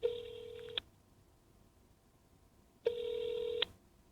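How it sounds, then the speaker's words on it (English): Two bursts of dual-tone dialing or ringing from a phone call placed through Meta Ray-Ban smart glasses, each under a second long and separated by a quiet pause, clear and close. "Calling Apple Inc. on your phone."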